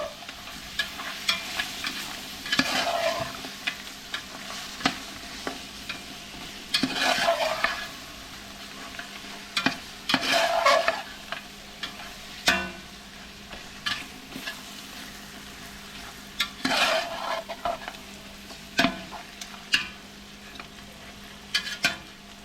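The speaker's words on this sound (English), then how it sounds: "Now, I'm just going to stir it up." Curry goat and curry chicken sautéing in a pot as a spoon stirs them, producing repeated scraping, rustling strokes over a gentle sizzle, near and clear with no speech.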